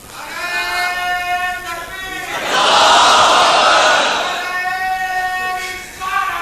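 At a religious gathering honoring the Prophet, a single amplified voice calls out a drawn-out slogan, a large crowd roars back a loud massed response in the middle, and the lead voice resumes calling afterward.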